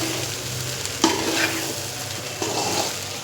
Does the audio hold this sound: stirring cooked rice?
yes